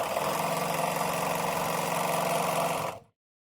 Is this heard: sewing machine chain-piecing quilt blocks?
yes